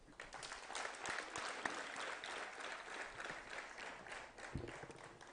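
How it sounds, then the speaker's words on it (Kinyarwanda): An audience claps for a school's leadership at a Catholic school gathering, a steady, dense round of applause lasting throughout with no talk over it. "Mumfashe dushimire ubuyobozi bw'iki kigo muntiza amashyi."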